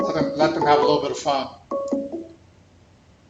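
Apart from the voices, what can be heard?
telephone ringing with incoming call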